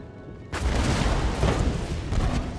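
Cannon fire in an Empire Total War battle: a sudden heavy, low boom breaks in and keeps rumbling with dense, rolling blasts under a continuous battlefield roar.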